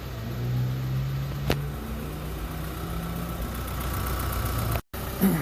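A 2016 Chevy Colorado diesel engine idles steadily after starting, a continuous low rumble with a brief click and a momentary dropout near the end.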